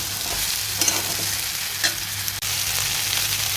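Cut okra stirring and frying in a pan with red chilli powder, a steady close sizzle broken by a few scraping stirs and clinks.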